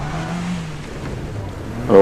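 A little front-wheel-drive Mazda competing at a WAC park rally sprint hums past with a low, wavering engine tone and then a sudden louder rev at the end, while a person talks over it.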